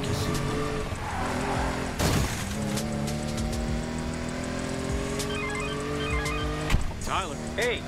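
A car engine driving in the video game Need for Speed Payback, a steady humming drone that rises in pitch, with tire noise, a few clicks and bumps and speech over it.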